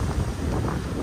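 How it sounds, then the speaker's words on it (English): Strong wind gusts outdoors on a city street, buffeting close and loud in a rough, continuous rumble with no talking. "Whoa. It's windy."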